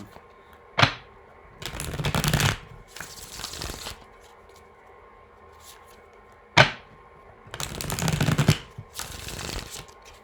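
Tarot cards are shuffled close up in two matching rounds, each a sharp snap followed by a longer riffling burst and a softer flutter, with quiet pauses between and no speech.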